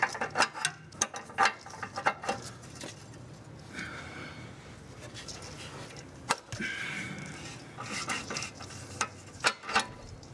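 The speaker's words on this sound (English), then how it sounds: "you could pop your O2 sensor wrench right back over that" An O2 sensor wrench works loose the oxygen sensor on a Volvo 850, making repeated close metallic clicks and ratcheting scrapes in irregular bursts, with brief rustling between them.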